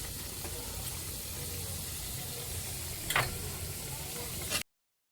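Sugar caramelizes in hot oil for a chicken curry, a steady close sizzling hiss broken by a couple of sharp crackles before it cuts off abruptly.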